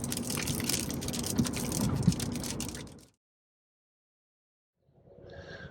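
Steady rain pouring down on the road in Ohio during a storm, a dense hiss of drops that cuts off abruptly into silence before rain noise returns faintly at the end.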